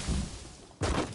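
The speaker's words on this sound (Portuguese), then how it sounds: "Aqui, ó, vou dar um tiro pra cima, ó." A single gunshot fired straight up in a video game, played near a barn with a horse: a sharp crack followed by a short decaying tail, heard alone.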